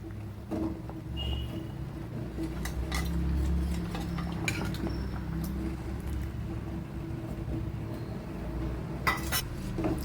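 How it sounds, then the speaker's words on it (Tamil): Rice flour is stirred into sweetened milk in a pot for paal kozhukattai, with a spoon scraping and clinking against the metal over a low, steady background hum. "அரிசி மாவு சேர்த்துட்டு கிண்டிக்கிடுவோம் இல்லாட்டி அடியில் பிடிச்சிக்கிறோம்"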